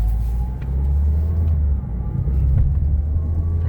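Ford Fiesta heard from inside while driving on the road, its engine giving a steady low hum that rises and eases slightly, with faint rattles and no talking.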